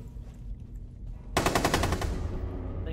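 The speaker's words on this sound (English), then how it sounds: "That gun sounded very big." A big gun fires a rapid burst of loud automatic shots in Rainbow Six, breaking in sharply after quieter game ambience and ringing out for about a second before fading into a lingering tail.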